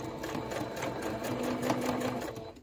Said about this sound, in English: we're going to top stitch all the way around